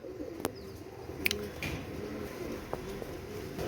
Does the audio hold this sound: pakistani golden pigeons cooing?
yes